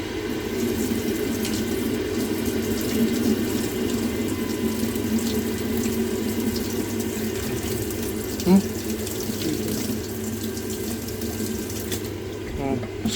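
Steady rush of water running from a tap after a Potterton boiler repair, continuous and moderately close with faint background hum and a brief knock partway through.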